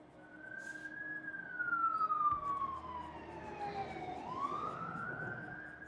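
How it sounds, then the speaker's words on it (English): A single siren wails in the distance, its pitch sliding slowly down and then rising again, over faint low traffic rumble. "I can hear the same sirens from your mic as from mine."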